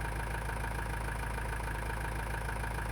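A tractor engine idles in Farming Simulator 19 with a steady, even mechanical rumble, close and unchanging throughout, with no talking.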